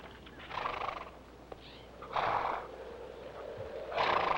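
Horses whinny three times, each call a bright, wavering burst rising out of a low background, spaced a second or so apart.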